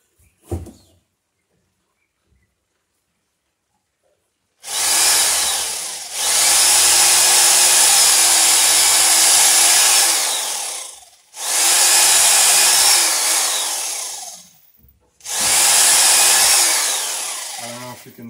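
A power drill bores into tough Granby oak plank in several long bursts, each a loud, strained whine separated by short pauses, after a few quiet seconds with a faint knock.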